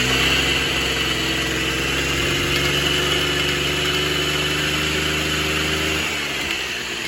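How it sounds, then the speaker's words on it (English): A Piaggio Ciao moped's small engine idles steadily with a constant low hum and buzzing vibration, close by, with a slight change in tone near the end. "The engine sounded like it was running okay."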